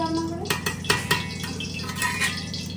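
A metal spoon scraping and clanking against a cooking pot as khichuri is stirred at home, several sharp uneven knocks close by over a low steady background hum.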